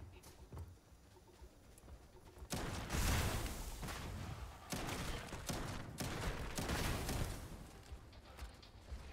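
Video game gunfire, a dense run of rapid shots and explosive bursts that keeps going for several seconds, loud and busy, with no talk over it.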